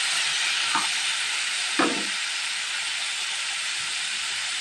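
Snake gourd pieces stirred into tomato gravy sizzling in a pan, a steady loud hiss and bubbling with a couple of brief scraping stirs, close up and without talk.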